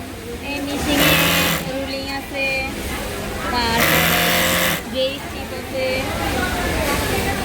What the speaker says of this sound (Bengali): এটা আসলে টু নিডেল লক স্টিচ